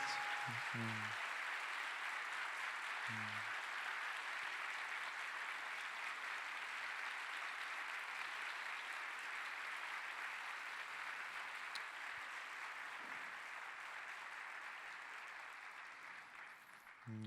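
Sustained applause from a congregation at a youth church service fills the room for about seventeen seconds, steady and broad, fading slightly toward the end, with a few brief voices near the start.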